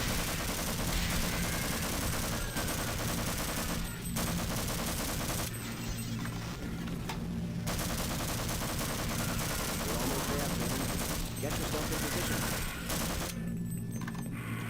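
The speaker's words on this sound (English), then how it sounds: "Oh yeah, a shotgun will do it." Dense gunfire in Half-Life 1 RTX, shotgun blasts mixed with rapid bursts in a continuous loud barrage lasting many seconds, with only brief gaps.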